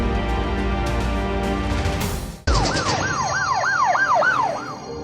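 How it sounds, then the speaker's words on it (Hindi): Ambulance siren: a steady tone that cuts off, then a close, loud wailing siren rising and falling in a quick repeated cycle over road noise. "बाहरी जिला पुलिस उपायुक्त हरेंद्र सिंह ने अंतिम सफर नाम वाली 2 एम्बुलेंस को हरी झंडी दिखाकर रवाना किया।"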